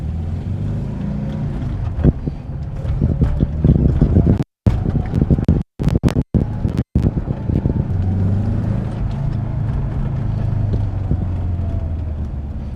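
A 1988 VW Vanagon engine idles and then pulls away, a steady low rumble with brief rattles and wind buffeting, close to the microphone.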